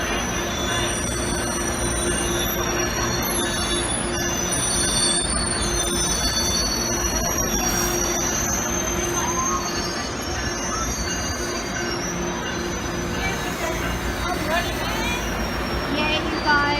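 A train in Los Angeles squeals steadily along the rails, its high metallic wheel screech holding at a constant loudness over the rumble of the cars, with voices in the background.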